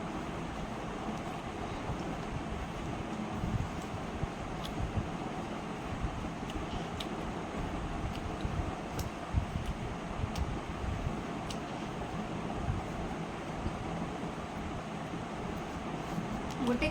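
An electric fan runs indoors with a continuous, airy whoosh and low rumble that stays steady throughout, with faint clicks and small bumps nearby.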